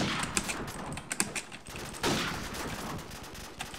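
Sniper rifle gunfire in the Call of Duty Black Ops 2 video game, a quick burst of sharp shots and mechanical clicks, loud and close, followed by a swelling crack and a fading tail, no voices.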